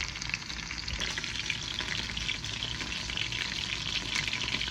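Steak sizzles loudly and steadily in a very hot cast iron pan, a continuous crackling hiss with no voices.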